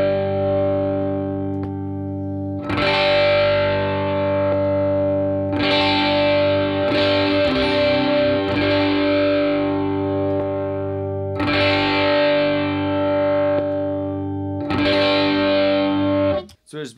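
An electric guitar plays through a Peavey Bandit 112 amp with the mid shift engaged, sounding distorted chords and riffs in loud bursts separated by brief ringing pauses.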